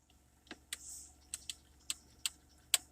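Drive mode buttons on a Mercedes CLA 250 4MATIC clicked by hand, giving about seven crisp, close clicks spaced irregularly over a quiet cabin background.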